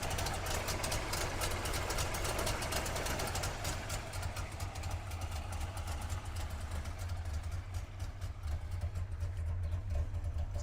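A Wartburg car's three-cylinder engine idles with a steady, low, uneven throb and chugging knock, running continuously near and fairly quiet with no talk.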